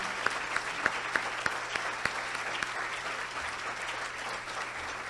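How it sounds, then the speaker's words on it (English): Conference attendees at the Choose Clean Water Conference applaud the planning committee; a steady crowd of clapping hands with a few sharper, closer claps standing out in a regular rhythm early on, over a faint low hum. "so we can all give you all a round of applause"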